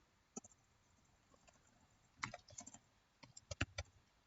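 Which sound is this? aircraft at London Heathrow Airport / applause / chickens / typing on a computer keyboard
typing on a computer keyboard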